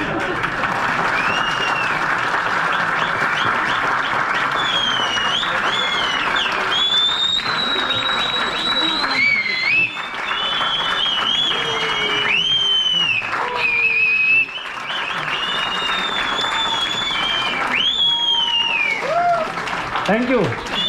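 An audience applauds steadily for about twenty seconds at an RCM meeting, with shrill whistles rising and falling over the clapping and voices mixed in throughout.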